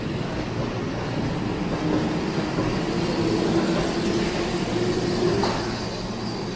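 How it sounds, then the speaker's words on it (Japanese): A Keihan 8000 series limited express bound for Yodoyabashi departs Kyobashi Station, a continuous loud rumble of a moving train with a faint tonal whine rising partway through. "特急淀屋橋行き8000系の電車が京橋駅を出発していきました。"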